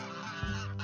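Male geese honking while fighting, with several loud, harsh, nasal honks blaring close by in a short burst, one call rising sharply midway, with no talk.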